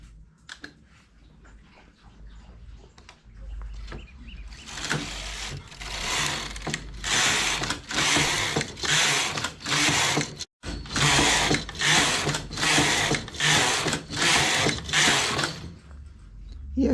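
A knitting machine carriage slides back and forth across the needle bed in repeated mechanical passes, each a rattling, clicking sweep separated by brief pauses, close and fairly loud.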